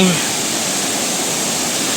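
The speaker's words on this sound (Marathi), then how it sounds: "हा जो धबधबा आहे त्या ठिकाणी आता आपण पोचलो आहो" Somtirth waterfall at Nivendi in Konkan roars as a steady, loud broadband rush of falling water, continuous and unbroken for the whole stretch.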